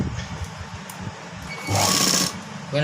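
Sewing machine stitching a blouse, a steady mechanical whir that swells for about a second near the middle, with softer handling noises before and after.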